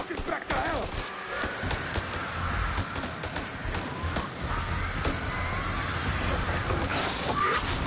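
Bursts of rapid gunfire crackle through a House of Ashes battle, dense overlapping shots mixed with shouting and game sounds, loud and continuous across the scene.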